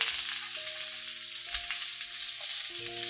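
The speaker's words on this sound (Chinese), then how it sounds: "等佢同啲姜炒埋一齐，同埋轻轻炒一炒佢咧" Slices of fuzzy melon are stir-fried with ginger in a wok, producing a close, steady sizzle with a few soft scrapes from the stirring.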